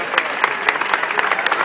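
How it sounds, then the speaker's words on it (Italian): Audience applause at a rally in Turin, loud and close with dense clapping and a few sharp individual claps standing out. "Un applauso, grazie."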